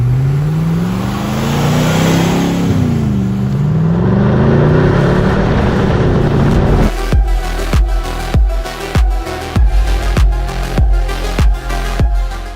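A Land Rover Defender 110 fitted with a GM 6.2 litre V8 and 6-speed automatic revs loudly with rising and falling engine tone, then settles into a steady rumble with rhythmic pulses as it drives close by.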